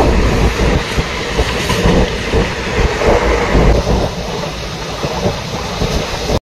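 A passenger train from Guwahati to Tinsukia rumbles steadily along the tracks at night, with a continuous loud roar and faint clickety-clack of wheels throughout, no voices.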